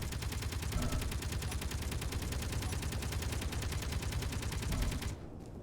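Rapid, evenly spaced gunfire from a vehicle combat video game pounds without a break for about five seconds and then cuts off, leaving a quieter background hum.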